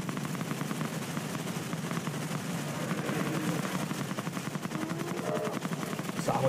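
Rapid weapon fire in the multiplayer shooter Avatar Reckoning, a steady stream of close, fast repeating shots over a low droning background, continuing throughout without pause.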